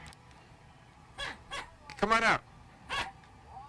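A man imitates a dog with a string of short barks and whimpering yips, close and fairly quiet, mixed in with casual talk.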